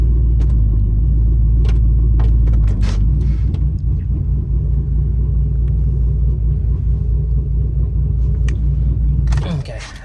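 Idling truck engine with an uneven, choppy rhythm, loud and close with a deep rumble throughout, fading out near the end as rattling and handling noises take over.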